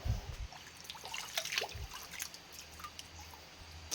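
Clear water flowing in a Sundanese village among rice fields, faint trickling and dripping with a few brief splashes, quiet and close.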